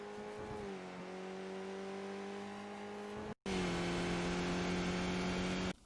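Skip Barber race car in the iRacing sim accelerating out of a corner onto a short straight at Oulton Park International, a steady loud engine drone that climbs in pitch, with a brief cut partway through.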